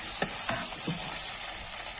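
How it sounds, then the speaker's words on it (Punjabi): Eggplant frying in hot oil, a steady sizzle with a few scraping stirs of a utensil in the pan, close and fairly loud. "ਚੰਗੀ ਤਰ੍ਹਾਂ ਆਪਾਂ ਨੇ ਬੈਂਗਣਾਂ ਨੂੰ ਤੇਲ ਦੇ ਵਿੱਚ ਭੁੰਨ ਲਿਆ ਏ"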